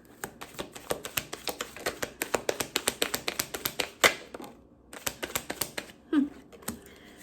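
Tarot cards pulled from a deck during a reading, a quick run of crisp taps and flicks in steady rhythm, close and fairly quiet, pausing briefly before a few more snaps.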